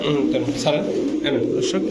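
Pakistani teddy and other fancy pigeon breeds coo in low, repeated throaty rolls close by, with a voice talking over them throughout.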